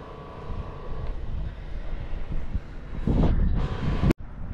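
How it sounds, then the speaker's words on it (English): Wind gusting at a fishing dock, a low continuous rumble buffeting the microphone that swells into a stronger gust near the end before a sudden brief dropout. "Getting some wind here."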